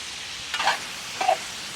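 Shrimp frying in a pan with Scotch bonnet pesto nearby, two quick stir strokes scraping against the pan over a faint, steady sizzle, close and without talk.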